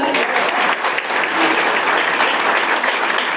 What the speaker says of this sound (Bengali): নুরুল আফসার স্যার জন্য একটা তালি হবে না?